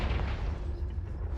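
A Confringo fire spell explodes in Hogwarts Legacy, a deep, booming blast with a heavy low rumble that rolls on and fades over a second or so.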